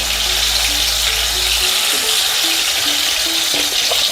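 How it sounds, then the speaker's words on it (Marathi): Pieces of suran, elephant foot yam, fry in hot oil until crisp, giving a steady broadband sizzle that hisses continuously at close range, with faint low hum early on and no talking. "याला छान तळून घेते खरपूसवानाचं"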